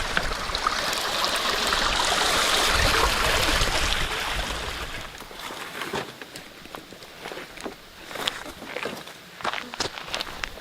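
A mountain creek flows steadily in a remote Idaho setting, a broad continuous rush that fades somewhat midway, then crunching footsteps pass close by in irregular steps.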